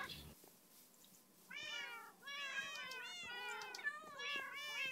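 Several Minecraft cats meow repeatedly in overlapping, rising-and-falling calls inside the video game, a steady chorus of game-sound meows after a quiet start, with no talking over them.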